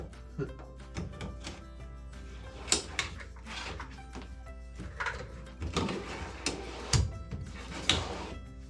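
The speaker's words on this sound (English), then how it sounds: "And then I can put the drawer piece back in it, so we won't lose it." Wooden drawer box sliding back onto full extension drawer slides in a workshop, a few scattered thunks and rolling slide noises with sharp clicks near the end, close and moderately loud.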